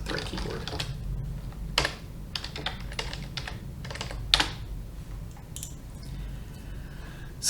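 Someone types on a computer keyboard in quiet, irregular bursts of soft key clicks, with a few sharper taps and short pauses between runs.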